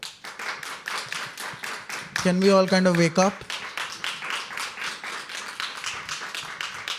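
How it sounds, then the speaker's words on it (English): A live poetry open-mic audience claps in a rapid, rhythmic patter of sharp hand claps that carries on throughout, heard under a voice talking over it. "can I have a nice round of applause?"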